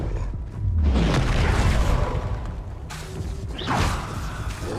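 Spell-casting effects in the video game Hogwarts Legacy, the disarming Expelliarmus spell on hard difficulty, with loud booming whooshes and mechanical crackles that swell near the start and again toward the end, no talking.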